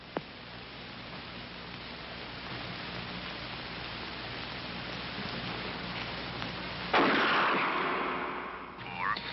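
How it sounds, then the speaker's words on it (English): A single loud, sharp gunshot cracks out in a scene from a 1979 documentary film. It follows several seconds of steady hiss and fades into a short, fading tail. "Shoot Bobby, Raymond. Through the forehead."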